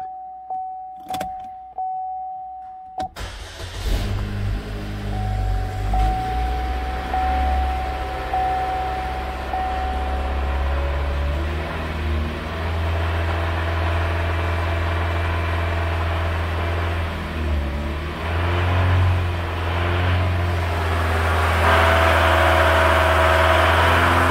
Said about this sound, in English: Just got a rod knock.